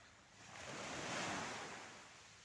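Sea waves wash in at White Beach in Liloy, Zamboanga del Norte. A single soft swell of surf rises and recedes, steady and moderately distant, with a little wind noise and no voices.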